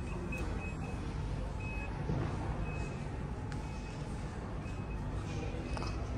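Rear parking sensors on a 2022 Nissan Patrol give faint, repeating high beeps. They sit under a steady wash of engine and ambient noise, with no clear speech.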